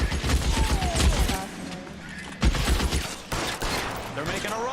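Sharp gunfire from the crime video game L.A. Noire, set in 1940s Los Angeles, rings out as clustered bursts of shots and a volley, loud and close, mixed with people talking.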